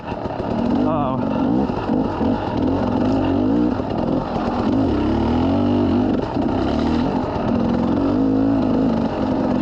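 A 2003 motorcycle rides along in first gear without the clutch, its close engine drone rising and falling steadily the whole way, with wind noise and no clear speech over it.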